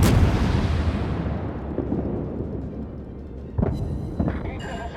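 Ship artillery shells fire in a World of Warships naval battle: a loud booming blast opens, decaying into a rumbling tail, with a couple of sharper, fainter reports following later.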